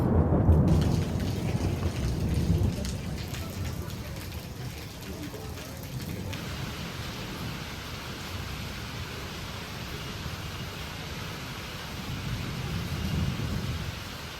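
Steady rain pours down onto a shed roof, a broad continuous wash of hiss and patter with a deeper rumble at the start that fits distant thunder, holding at an even level throughout.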